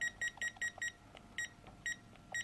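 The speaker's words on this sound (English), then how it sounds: "it should beep at us once we get to 250 Newton meters" A torque wrench set to 250 newton meters beeping as it reaches torque, a quick series of faint, evenly paced electronic beeps in short bursts with brief gaps.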